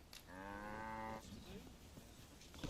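An ox gives one sustained low moo in Dragon's Dogma 2, lasting about a second, faint and fairly close, followed by quiet rustling and small clicks.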